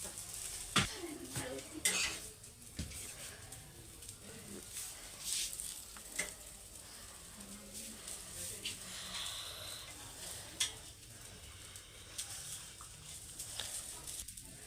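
A spoon works chili powder into dosa chutney, giving repeated scraping and clinking against the dish with a faint sizzle in the background and brief clatters throughout.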